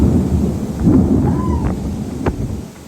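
Thunder rolls during a storm at Mykonos, Greece: a deep, heavy rumble fills the whole stretch under wind buffeting the microphone, with a brief sharper crack near the end.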